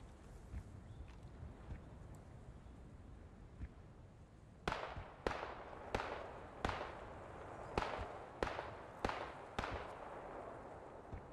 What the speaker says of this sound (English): that's a lot of mortar shooting right now. I hear them just popping off.